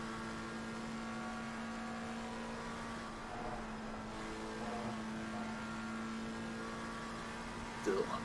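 McLaren race car engine in Assetto Corsa Competizione during a 12-hour endurance race at Spa-Francorchamps, a steady onboard drone with constant tone throughout and a brief louder burst near the end.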